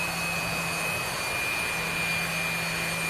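A jet engine roars at full power inside the DCS flight simulator game, a steady dense rushing drone with a high whine running constantly throughout.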